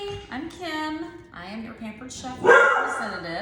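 A pet dog yips and barks in short bursts, close and fairly loud, mixed in with someone speaking in a kitchen.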